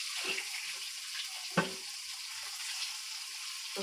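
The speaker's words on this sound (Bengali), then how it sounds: "এখন এক সাইডে তেল দিয়ে মরিচটা ভাজলাম" Dried red chilies frying in a little oil at the side of a pan, a soft, quiet sizzle with a brief utensil knock partway through.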